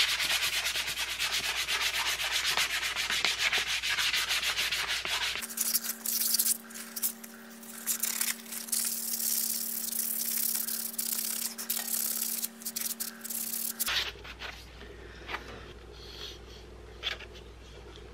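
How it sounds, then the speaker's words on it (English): Wood utensils, cherry spoons among them, having their edges eased by hand with 180 grit sandpaper: steady scratchy rubbing strokes, close and continuous, with a stretch where a low steady hum runs underneath. "I'm gonna take some 180 grit now, and I'm gonna hand sand and ease all the edges on the utensils"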